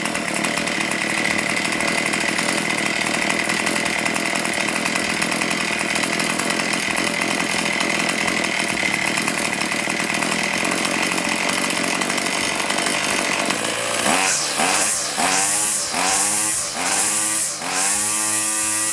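A small two-stroke engine, such as a weed eater or chainsaw motor, runs at a steady high buzzing idle during carburetor adjustment with the choke half off, then revs up and down in several quick bursts near the end, loud and close.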